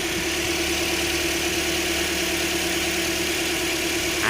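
A 2017 Toyota Altis 1.6G with a petrol engine idles steadily, giving a smooth, even, close-up hum with a faint vibration that holds at the same level throughout with no revving and no voices.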